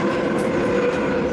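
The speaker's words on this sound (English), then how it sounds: "That's the metro, the Moscow metro" A Moscow metro subway train rumbles through its tunnel just beyond a door: a loud, steady rolling roar with rhythmic wheel clatter, heard alone without voices.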